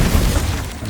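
A Confringo spell in the video game Hogwarts Legacy detonates as a deep, loud, rumbling boom that fills the whole second and tapers slightly at the end.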